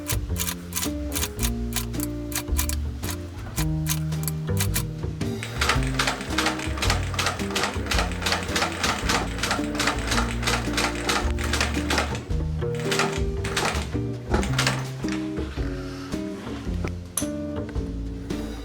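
A sewing machine stitches in a zipper in rapid mechanical ticks, running in long bursts while background music plays underneath.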